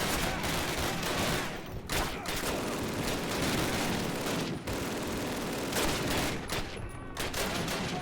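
Dense, continuous gunfire rattles through a Call of Duty firefight, sustained loud volleys and bursts of automatic weapons filling the whole stretch with hardly a break.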